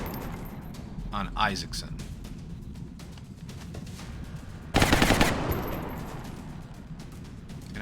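Suppressing gunfire in the squad-tactics game XCOM Long War: short bursts of automatic weapon fire, the loudest and densest burst near the end of the clip, heard under a player's ongoing talk.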